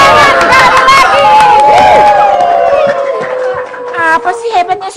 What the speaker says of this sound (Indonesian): Beri tepuk tangan yang meriah. Tepuk tangan sekali lagi.